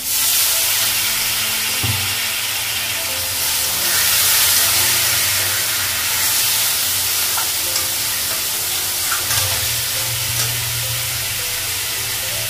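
Water poured into a pan of sizzling fried spice paste with tomato for a fish curry, producing a loud, steady hissing sizzle with bursts of steam and a few dull knocks.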